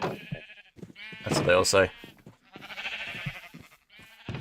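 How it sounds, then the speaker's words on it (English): Video-game sheep bleat in a short burst partway through, heard under casual talk from the player. "Don't let the sheep escape."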